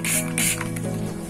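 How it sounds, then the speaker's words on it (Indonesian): Short bursts of alcohol sprayed into the hole of a soft rubber O-ring on a Sharp Tiger tube, heard as two close hissing spray puffs followed by faint dripping. "Jadi saya semprot dulu alkohol"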